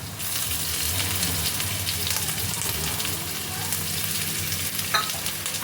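Potatoes with ginger paste fry in a pan, a steady close sizzle with faint stirring scrapes running throughout, no talk.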